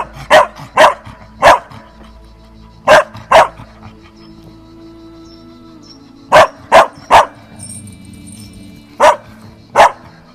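Belgian Malinois barking in an aggression test: sharp, loud barks come in short clusters of two or three with quiet gaps between them, close up and without speech.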